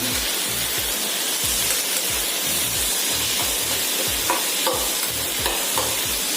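Grated coconut being stirred in a hot pan for an onion chutney, with a steady close sizzle and a regular scraping rhythm of the spoon against the pan throughout.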